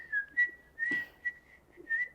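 Several short attempts at whistling, a thin wavering tone in brief bursts with breathy puffs between them, fairly quiet and with no talking over it.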